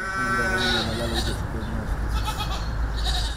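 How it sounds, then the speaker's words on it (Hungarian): Newborn goat kids bleat at a wildlife park in Kecskemét, Hungary, giving a few short wavering cries up close, followed by outdoor rustle and a voice speaking. "Ma is születtek kiskecskék a kecskeméti vadaskertben"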